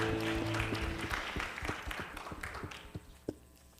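A church congregation at a New Year's Eve service applauds, a soft scattered patter of clapping that thins out and fades, with a few louder isolated claps near the end.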